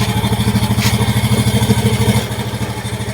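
A Honda XRM125 motorcycle engine, its carburetor just cleaned, runs at idle close by with a loud, quick, even putter and slight mechanical clatter that eases a little toward the end.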